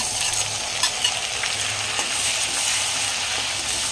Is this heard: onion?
yes